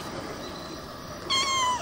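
A single short cat meow comes near the end, fairly close and clear, after a stretch of quiet background hiss.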